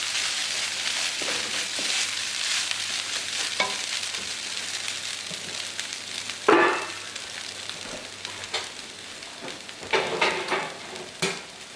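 Halloumi fries in a pan with a continuous close sizzle and hiss, interrupted by occasional louder stirring scrapes and pops toward the end.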